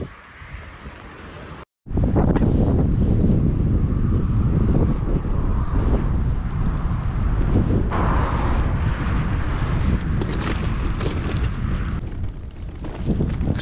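Strong wind and rain roar steadily against the microphone while cycling through the Netherlands from Groningen to Drenthe, loud and continuous after a brief dropout near the start.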